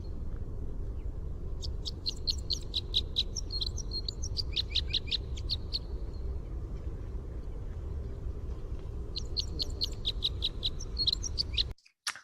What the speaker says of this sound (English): this beautiful crossbill in song